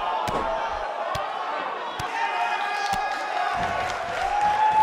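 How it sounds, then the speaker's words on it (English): An arena crowd in the wrestling game WWE 2K18 roars in a steady, sustained wash of cheering, with a few sharp thuds from the ring and a commentator talking over it. "Judging from this crowd response, guys, there's no more magical place to be in Orlando right now than right here for this match."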